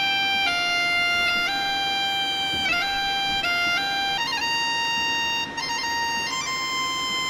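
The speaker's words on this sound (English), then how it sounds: "Let's also listen to Galatian bagpipe," A Galician bagpipe sample from the Celtic Era 2 library plays in FL Studio, a steady nasal drone beneath a chanter melody that steps between sustained notes with quick grace-note ornaments.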